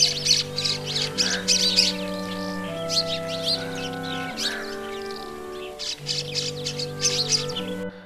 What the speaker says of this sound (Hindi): जैसा कि इस वक्त यहाँ आप चिड़ियों की बड़ी तादाद देख रहे हैं।